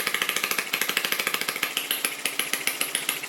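Lister D model stationary engine running under load at steady speed, a rapid even chugging beat with sharp exhaust pulses, loud and close with no talk.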